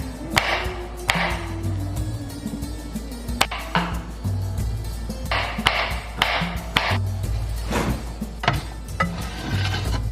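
Knife chopping almonds on a cutting board for a tender coconut pudding garnish, with repeated sharp, close taps in uneven bursts over a steady low background hum.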